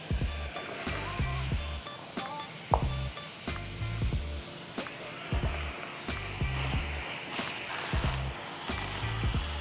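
Chopped vegetables hit a hot pan already cooking ginger, garlic, chilies, jeera and onion for Sindhi sai bhaji, giving a steady close sizzle under a regular thumping music beat, with occasional clinks and scrapes.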